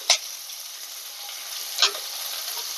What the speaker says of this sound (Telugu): ఆల్రెడీ నూనె మరుగుతుంది